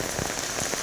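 Rain falls steadily, a dense, even hiss of drops pattering close by with no pauses.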